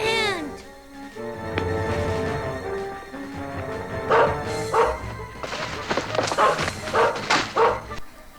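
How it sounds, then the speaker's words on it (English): A comic cartoon dog sound effect yelps and barks in quick rhythmic bursts over a busy animated soundtrack, loud and close, with a brief voice at the start. "Did you just use a comic sound effect for this dog getting the living shit beaten out of him?"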